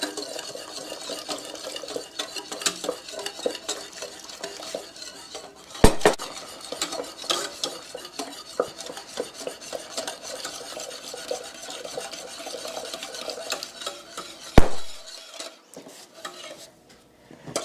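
A metal whisk scrapes and rattles steadily against a pot while cornstarch and water are whisked into boiling broth, a continuous close clatter with a few sharper knocks.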